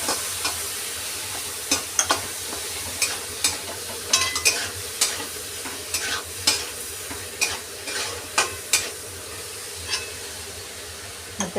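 A paste of green chilli, ginger, garlic and coriander with salt is stirred in a pan for masale bhat, with regular close scraping strokes over a soft continuous sizzle.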